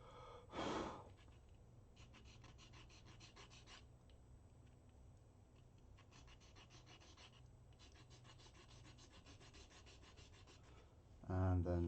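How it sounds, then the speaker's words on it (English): Sandpaper lightly rubs a wooden model part in a faint, rhythmic scratching that continues for several seconds, with louder knocks at the start and end. "just a tiny light sanding to remove some on a visible part"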